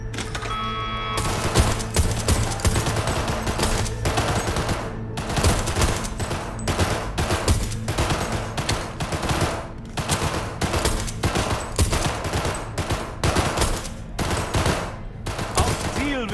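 Rapid gunfire aimed at a target in Cyberpunk 2077, heard as dense, loud bursts of repeated shots with brief pauses between volleys over steady game background.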